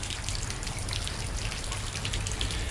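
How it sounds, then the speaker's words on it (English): Rain falls steadily in East Texas after hours of downpour, a dense, even hiss of drops pattering on surfaces, close and continuous with no voices. "It'd been raining for hours."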